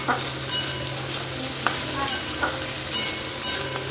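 Meat is stir-fried in a pan for kosha, making a continuous close sizzle with occasional scraping stir strokes and soft crackles, steady and moderately loud, without talking.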